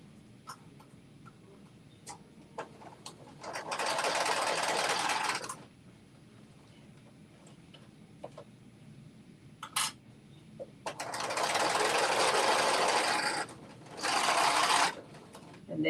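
A sewing machine stitches an off-the-shoulder top in two long bursts of fast rattling, a brief third run near the end, and faint handling clicks and rustles between them.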